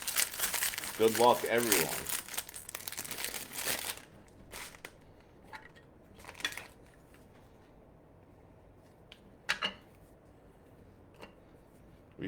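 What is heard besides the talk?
opening wrappers of Bowman Chrome baseball card packs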